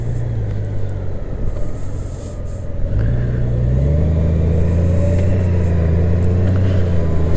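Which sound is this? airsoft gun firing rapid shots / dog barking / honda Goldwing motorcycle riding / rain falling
honda Goldwing motorcycle riding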